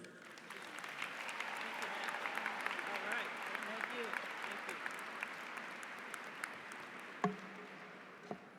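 Sustained audience applause at the Spelman College 2015 commencement welcoming Donna Brazile, a dense, even clatter of many hands over a crowd murmur, with a couple of louder sharp claps near the end.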